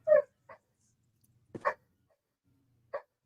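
Dogs bark in a few short, separate bursts, some sharp and yippy and one doubled, with silent gaps between them and no voices.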